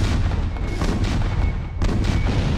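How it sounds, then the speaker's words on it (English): Booming blasts from a grenade launcher in the PlayStation game Alien Resurrection rumble heavily over a dense, loud bed of low noise, with a couple of sharper hits about two seconds apart. "What a useless grenade launcher."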